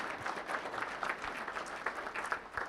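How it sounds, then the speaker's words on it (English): Audience applause for board members at a chamber of commerce legislative preview event, a dense crowd clapping steadily throughout. "Please join me in giving a big round of applause to our board members."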